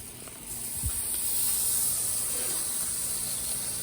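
Bacon strips frying on a flat-top griddle with syrup, giving a steady close hiss and crackle throughout with a brief low bump near the start.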